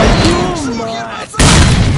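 Grenade blast in the shooter game STALKER Clear Sky, a loud, sudden booming burst that cuts in after shouted voices and rumbles on to the end.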